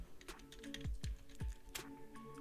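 Quick, irregular keystrokes on a computer keyboard, close and crisp, with a few heavier key presses and no talking.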